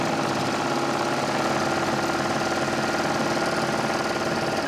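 Sewing machine stitching along garment edges, a dense, continuous mechanical whir with a fast steady rhythm, loud and close, with no talking.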